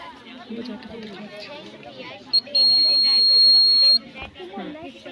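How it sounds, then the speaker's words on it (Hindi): Buzzer on a fire alert sensor science model at a school science exhibition, a steady high electronic tone lasting about a second and a half, sounding over busy crowd chatter and nearby talk. "If we fire at the sensor, it radiates and the buzzer starts sounding."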